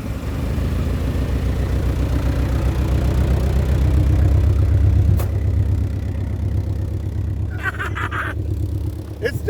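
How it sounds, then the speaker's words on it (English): A car engine keeps running steadily while the stuck car makes no headway, a loud continuous low rumble that holds for several seconds before some brief clatter near the end. "The engine is still running."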